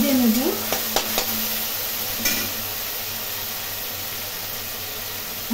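A spice paste of onion, garlic, ginger, chili, tomato and garam masala fries in a pan with a broad, steady hiss, a few sharp utensil clinks early on, then continuous sizzling alone.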